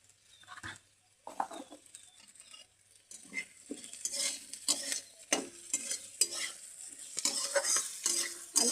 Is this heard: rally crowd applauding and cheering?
no